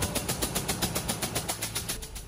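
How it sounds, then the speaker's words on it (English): A diesel generator engine running with its cylinder indicator valve opened, giving a rapid, regular chuffing pulse of sharp bursts over a steady mechanical hum, fairly close. "By opening this indicator valve, you will make out the performance of your engine."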